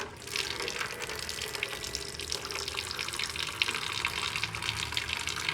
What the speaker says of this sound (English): This is the water coming out of the carbonator, so it's going to take some time for it to completely empty.